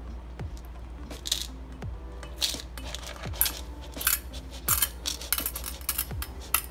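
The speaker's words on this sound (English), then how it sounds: "first thing we're gonna wanna do is put in our gravel." Small handfuls of gravel poured into a tiny aquascaped pond make sparse clinks and rattling clatters, scattered bursts across several seconds at a low, close level.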